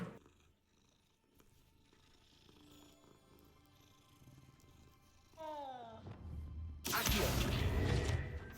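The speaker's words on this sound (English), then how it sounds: "You pet the stupid cat." A cat purring after being petted in the Hogwarts Legacy video game, a soft close rumble layered over game music, followed by swooshing effects and a loud burst near the end.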